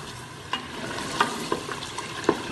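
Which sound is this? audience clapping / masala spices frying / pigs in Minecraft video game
masala spices frying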